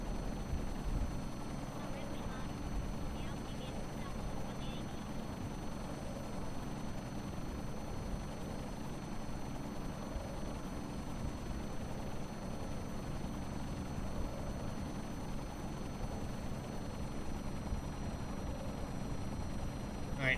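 Helicopter flying steadily in the video game Kerbal Space Program, a continuous rotor and engine drone that holds level and fairly close throughout, with game noise but no break in the sound.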